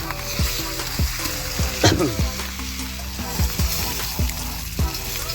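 Fresh, freshly caught fish fries on a tava over a wood-fired chulha, with a loud, continuous sizzle and close crackling. Occasional scraping and tapping strokes cut through the frying, and there is no talking.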